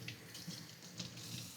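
Water runs steadily from a tap into a container for tortilla dough, a constant soft rushing at moderate volume with small splashes and no talking.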